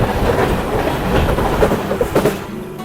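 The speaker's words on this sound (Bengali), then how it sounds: "দেখো শিয়ালদা রাজধানী আমাদেরকে ক্রস করছে শিয়ালদা রাজধানী one two three one four Sealdah রাজধানী এক্সপ্রেস" Sealdah Rajdhani Express rolling past on the next track, a loud steady rumble of wheels and carriages with rhythmic clickety-clack joints, heard close from aboard another train before the roar thins toward the end.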